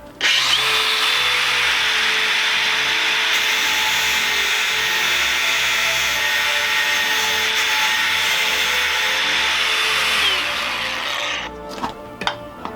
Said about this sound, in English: we first have to do a spark test. That'll let me know if I have a piece of metal that I can actually harden or not